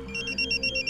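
A phone rings with a shrill electronic trill, pulsing quickly and fairly quiet, with no one speaking, in a Hindi film.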